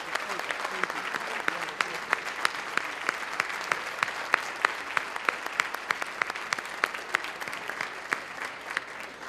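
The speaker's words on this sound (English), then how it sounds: "let's give them a hand" Sustained audience applause for the Board of Education at a county chamber luncheon, a dense steady wash of many hands clapping with sharp individual claps standing out, continuing evenly throughout.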